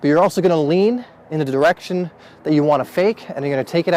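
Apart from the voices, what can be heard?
No everyday noises stand out.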